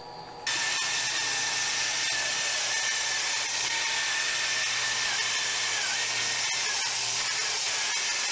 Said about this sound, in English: I just need to cut a 32 inch wide piece off of it